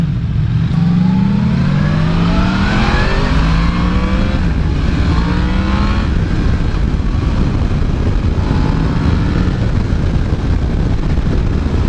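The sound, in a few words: Yamaha MT-10 motorcycle accelerating and shifting gears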